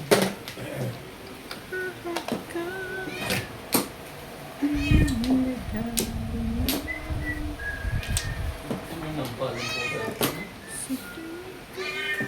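A cat meows repeatedly, several drawn-out cries at irregular intervals, with faint background noise between them.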